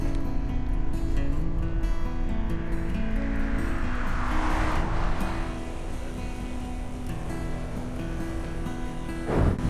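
Cars pass on a curving rural road in China, a continuous close engine and tire roar that stays loud throughout, with a rushing whoosh as one vehicle goes by mid-way and a brief surge at the end.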